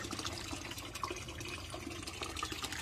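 Water poured and stirred into a homemade organic compost fertilizer mix for plants gives a steady, close sloshing gush that runs throughout with no talking.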